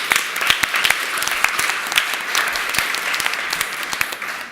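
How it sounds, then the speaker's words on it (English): A conference audience gives a round of applause, with many hands clapping in a dense, even patter and sharp individual claps standing out, sustained steadily throughout. "A round of applause."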